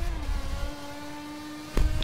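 Race car engines in a Forza driving game hold a steady, sustained drone with a faint rising whine, ending in a brief louder burst.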